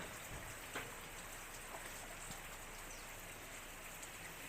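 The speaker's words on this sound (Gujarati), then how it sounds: "અત્યારે છે ને ધીમો ધીમો વરસાદ શરૂ છે." Light, steady rain falls outdoors in a soft, even hiss with occasional faint drops, continuous and fairly quiet throughout.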